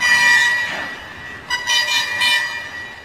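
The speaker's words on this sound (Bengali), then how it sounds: "সিঙ্গেল ইঞ্জিন চলছে" A single-engine train runs past with a steady mechanical rumble and bright tonal whine, swelling again in a few pulses near the end; no voices are heard.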